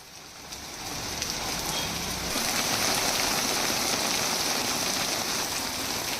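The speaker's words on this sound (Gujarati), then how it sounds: "વરસાદ સતત ત્રીજા દિવસે પણ છે" Heavy rain pours steadily over Ambaji in Banaskantha, north Gujarat, on its third straight day, during a thunderstorm. It makes a dense, continuous hiss that swells slightly after the first second and then holds loud and even, with no voices.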